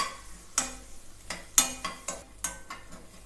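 Soaked lentils and vegetables are stirred with onion in a hot pan, a spoon scraping and clacking against the pan in a steady series of sharp strokes over a soft sizzle.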